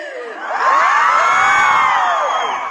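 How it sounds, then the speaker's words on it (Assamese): A large college crowd at an event cheers and shouts loudly in one sustained roar, swelling quickly and holding steady with high-pitched whoops and yells. "আমাৰ ফুলকমলি এতিয়া অহাৰ লগে লগে এই চিঞৰটো মাৰে নহয়"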